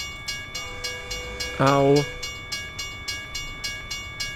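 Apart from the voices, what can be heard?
train passing in the video game American Truck Simulator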